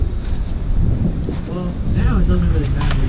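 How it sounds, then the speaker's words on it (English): Strong wind buffets the microphone outdoors at an airsoft field, a constant loud roaring rush with gusty swells and no break. "Let me tell you about how windy it was."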